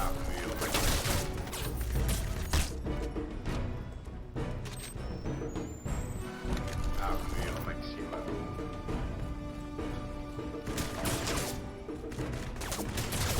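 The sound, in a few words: gunfire in a shooting video game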